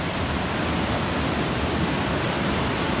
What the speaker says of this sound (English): You might hear a roar in a second. This is a waterfall by you.